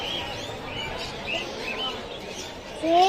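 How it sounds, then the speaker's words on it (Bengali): Cockatiels chirp at the busy Mirpur 1 bird market, with faint scattered tweets over a murmur of crowd noise and a sharper, louder call just at the end. "এখানে দেখতে পাচ্ছেন ককাটেল পাখি"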